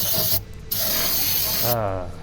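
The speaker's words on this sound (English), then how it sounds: "you sandpaper it down for the final touch" Sandpaper rasps steadily across the metal surface of a Volvo 240 water pump, a loud, close scratching with a brief pause partway through before the rubbing resumes.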